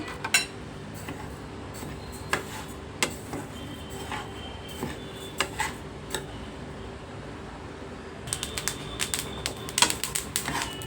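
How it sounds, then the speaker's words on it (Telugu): Flaxseeds roasting in a pan give scattered light ticks and small rattling clicks over a low steady background, a quick cluster near the end as the seeds are stirred. "ఇవి అర కేజీ అండి ఇవి ఇవి బాగా వేయించుకోవాలి"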